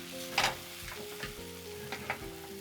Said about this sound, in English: Stir it and make the egg half cooked.